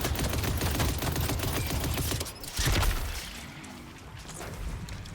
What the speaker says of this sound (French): La Yamato, elle tire combien de trucs, wesh?